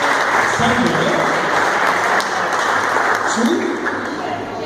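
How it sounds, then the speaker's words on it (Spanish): An audience applauds steadily through a live gathering, a dense wash of clapping with a voice speaking over it throughout. "otro aplauso para vos por ser el yerno de Sandra"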